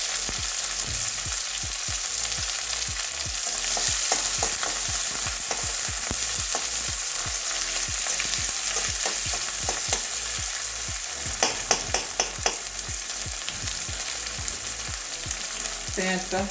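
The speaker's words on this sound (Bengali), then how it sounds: "এবারে কাঁচা লঙ্কা দিয়ে দেবো সেটা ভেজে নেব পেঁয়াজটা" Onions and green chillies fry in a pan for a Bengali bottle gourd curry, a dense constant sizzle with rapid rhythmic stirring strokes and a few sharp spatula clinks near the end, close up and without talk.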